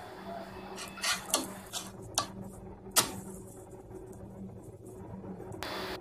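Bread omelette turned over in a frying pan, a few sharp clinks and scrapes of a spatula against the pan over a low sizzle, close and moderately loud, no talking.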